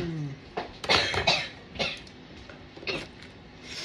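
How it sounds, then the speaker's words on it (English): Children cough several times in quick, separate bursts nearby, dry hacking coughs from lingering colds with short pauses between them and no talking. "Pardon my children's coughing."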